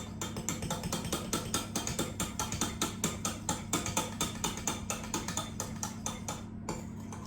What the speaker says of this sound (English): I'm just going to take a spoon and just give that a stir.